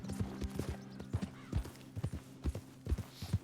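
Horse hooves clip-clop in a steady walking rhythm, hollow knocks with a faint musical drone behind them, from a thoroughbred horse in Red Dead Redemption 2 on PS4.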